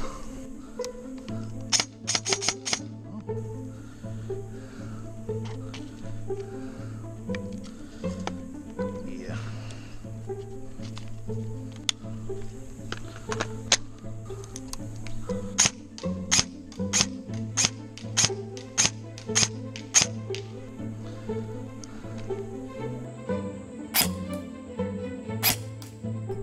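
A Lancer Tactical MK18 MOD 0 Gen 3 airsoft AEG on an 11.1 LiPo shooting 0.2 gram BBs fires short bursts of sharp mechanical clicks, with a quick rapid string later on, over a steady backing sound while a voice briefly speaks.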